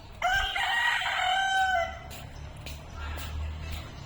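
A rooster crows loudly and close by outdoors, one drawn-out call, followed by quieter clucking from chickens and faint low background noise.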